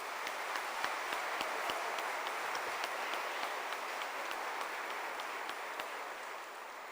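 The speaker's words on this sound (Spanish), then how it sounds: "Vamos a brindarle un fuerte aplauso a nuestro invitado especial del día de hoy." Steady applause from the audience greets the invited guest at a book presentation, dense continuous clapping with a few sharper individual claps standing out, sustained for several seconds.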